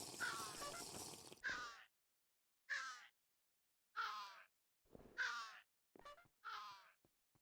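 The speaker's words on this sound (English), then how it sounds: "My bird sounds miserable." Pet bird in a video game letting out a series of croaking, caw-like distressed cries, about six separate calls with short silent gaps between them.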